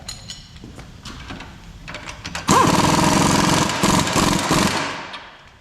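An impact wrench rips the lower rear shock bolt tight on a 2007–2018 Jeep Wrangler, starting with a loud sustained rattling hammer burst after some lighter clicks and handling noises, up close.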